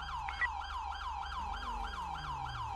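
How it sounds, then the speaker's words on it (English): Police car sirens in a GTA roleplay game wail in a steady repeating sweep, several overlapping at moderate distance over a low engine rumble, with a brief higher chirp early on. "All these sirens going off."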